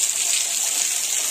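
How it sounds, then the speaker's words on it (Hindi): Water falls steadily into a hot spring pool at Tamiya Hills, Chhindwara, with a continuous loud hiss and splash and no voices. "यहाँ पे पानी गिर रहे हैं"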